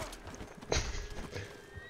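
A horse in the video game Red Dead Redemption Online gives a sharp neigh over the clip-clop of its hooves, with a low game soundscape running underneath.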